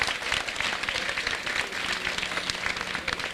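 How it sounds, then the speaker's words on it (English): Applause from police personnel at a Tema regional command gathering, honoring the regional commander and his team; steady, dense clapping across the full span with faint murmurs beneath. "Let's clap for the regional commander and his team."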